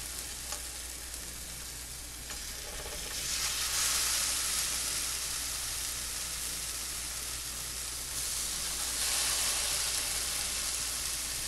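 Mushroom Salisbury steak patties sizzle in a pan coated with cooking spray, a steady, close, broadband frying hiss that swells louder as more patties go in.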